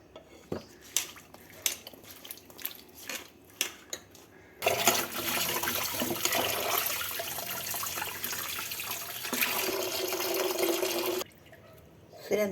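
Clinking of utensils against a dish gives way to a long stretch of running, splashing water as dried fish pieces are rinsed, then a few clinks return.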